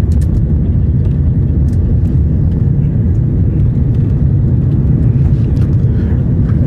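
Loud, steady cabin roar of a full passenger airliner landing on a Jakarta to Seattle trip, a constant low engine and airflow rumble with faint clicks and rattles, no talk.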